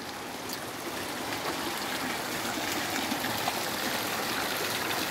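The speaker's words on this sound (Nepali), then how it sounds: "पाँच मुखे लानुहोस् धारा, पाँचवटा धारा छन्।" Water pours steadily from a five-spouted stone spring at Koteshwar temple in Gulmi, a continuous close splashing rush with a trickling edge, alone and without talk.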